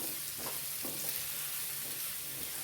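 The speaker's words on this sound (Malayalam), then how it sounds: "1/4 ടീസ്പൂൺ മഞ്ഞൾ പൊടി, ഒരു 3 പച്ചമുളകും കൂടെ ഇട്ട് വഴറ്റി കൊടുക്കാം" Bitter gourd sautéing in a pan with turmeric powder and green chillies, a steady close sizzle and fry with a few soft stirring scrapes, no talking.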